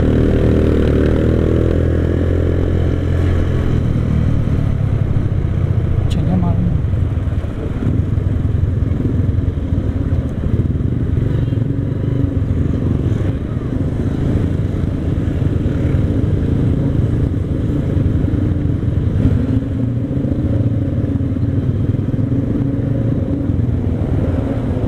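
Classic custom chopper motorcycle idling outdoors: a loud, steady exhaust rumble with a low throbbing beat that runs throughout, close by and without talk.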